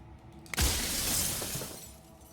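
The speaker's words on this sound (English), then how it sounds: "your glass breaking sound effects are pulling a lot of weight here" A glass-shattering sound effect from the video game Slay the Princess: one sharp crash that bursts into a bright, scattering spray of shards and then rings and fades slowly over a low, steady background.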